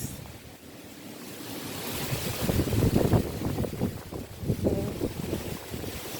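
Hurricane Beryl's wind roars and gusts across a property in Grand Cayman, a broad rushing noise that swells and buffets the microphone, loud and close.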